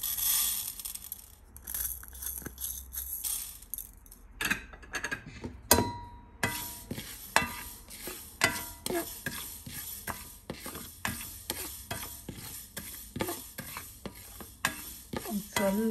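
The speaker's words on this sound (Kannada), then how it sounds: "ಸೊ ನಾವಿವಾಗ ಸಾಸಿವೆ ಆಮೇಲೆ ಮೆಂತ್ಯ ಎಲ್ಲ ಒಟ್ಟಿಗೆ ಸ್ವಲ್ಪ ಹುರ್ಕೊಬೋದು." Mustard seeds and fenugreek dry-roast in a wide pan for sambar powder, with dry rattling and scraping as they are stirred. The sharp, irregular stirring clicks recur throughout, close and fairly loud, with no talk.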